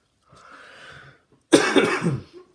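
Two coughs: a softer, muffled one, then a louder, harsher cough close to the mic, with no talking.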